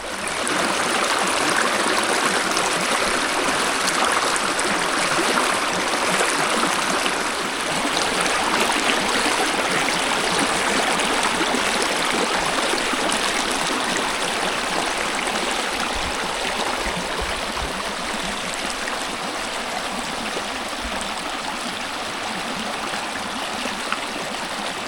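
Steady rushing of a stream flowing over rocks, continuous and fairly loud throughout with no voices.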